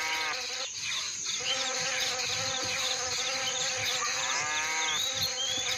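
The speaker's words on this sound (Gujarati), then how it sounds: "ગાય ખૂબ જ કંટાળી ગઈ હોય છે કારણ કે ઉપર ભમરા તેને કરડતા હોય છે" Bumblebees buzz steadily around a cow in an animated cartoon, a continuous droning whine that stays loud and close throughout, with layered tonal hum and no talking.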